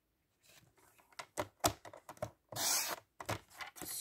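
Paper being cut to 14 by 10.5 cm for a Valentine's card background, heard as a run of short, close, crisp snips and scrapes followed by a louder sustained rasping cut, with no talking.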